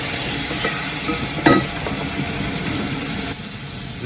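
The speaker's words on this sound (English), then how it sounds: "Let's go continue frying our food." Tomatoes sizzle in a hot frying pan while being stirred for spaghetti sauce, giving a steady close frying hiss broken by a few scraping clicks of the stirring utensil, with no talking.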